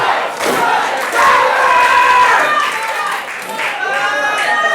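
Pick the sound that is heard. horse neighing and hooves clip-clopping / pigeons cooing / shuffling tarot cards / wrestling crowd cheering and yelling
wrestling crowd cheering and yelling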